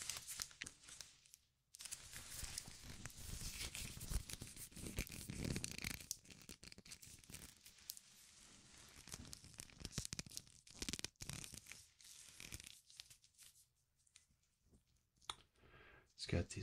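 Cat5e round Ethernet data cable with small plastic clips being handled up close, giving dense clicking, crinkling and rustling that runs nearly continuously with short pauses, loud and intimate, and soft speech present in places.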